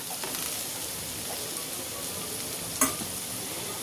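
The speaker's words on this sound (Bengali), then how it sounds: "এইভাবে নাড়াচাড়া করে আর একটু ভেজে নেব" Vegetables for chire pulao being stirred and fried in a pan: a steady close sizzle with scraping stir strokes and one sharper clack near the end, no voices.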